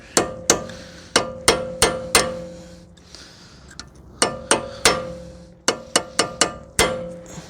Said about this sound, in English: So stake the axle nut so that it doesn't back off in the future.